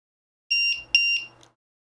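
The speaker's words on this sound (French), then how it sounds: "on va brancher le bip bip" Electronic beeper on a Tamiya TT-02 RC car with an Audi Quattro Rally A2 body gives two steady high-pitched beeps, each about a quarter second long, close and fairly loud, followed by a short faint blip.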